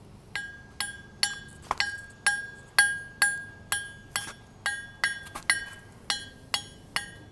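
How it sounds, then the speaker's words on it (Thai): Hammer blows on the face of a cast iron anvil, about fifteen sharp metallic strikes in a steady rhythm, each a dull, short ring that dies quickly rather than singing, close and fairly loud with no talking. "ตีที่หน้าทั่ง เสียงมันจะทึบๆนะครับ เสียงมันจะไม่ใสกลางวาน เนื่องจากมันเป็นเหล็กหล่อนะครับ"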